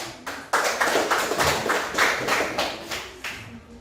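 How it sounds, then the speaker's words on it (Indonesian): A crowd claps steadily for several seconds, a dense, even patter of many hands that fades slightly toward the end. "Luar biasa, tepuk tangan dulu."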